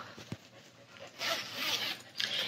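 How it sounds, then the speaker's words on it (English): A small nylon sling bag being zipped shut, a quick tug followed by two longer raspy zipper runs close up, with no talk over them. "zip this back up."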